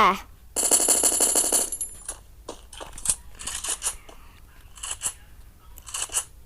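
Rapid automatic weapon fire rattles in a Free Fire match, starting with a loud sustained burst and followed by scattered shorter shots and impacts, with a voice talking over the action.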